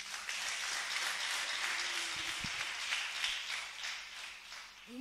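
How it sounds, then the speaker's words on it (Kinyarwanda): A church congregation at a sermon service claps for God in a sustained, fairly soft and distant round of applause with no talking over it. "Reka dukomere Imana amashyi."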